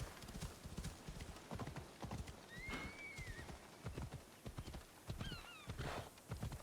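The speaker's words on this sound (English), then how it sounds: "My horse can't really navigate it." Steady clip-clop of horse hooves at a walking pace over cliffside terrain in Assassin's Creed Odyssey, with a couple of short whinnies rising over the rhythmic footfalls.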